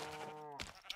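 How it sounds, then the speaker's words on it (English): Sheep bleating in the Minecraft video game: one clear, harmonic bleat that falls in pitch, followed by a short scuffling noise. Close and alone, with no talk. "first we're gonna kill the sheep"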